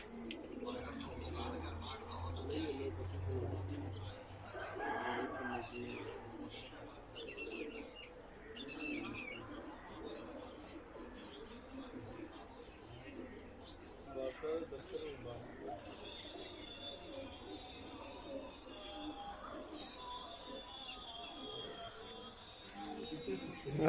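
Pigeons on rooftops in Pakistan coo in low, throaty rumbles alongside scattered chirps from other birds, with faint voices in the background.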